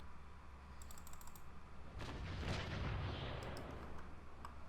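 Ship cannonades fire in Naval Action as a booming, rumbling volley that swells in the middle, with light keyboard clicks before and after.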